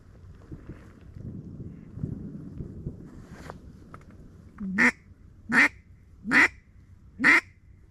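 Mallard ducks quack in a flooded rice field in Arkansas, four loud, evenly spaced calls close by after a stretch of soft wind noise and low rumble.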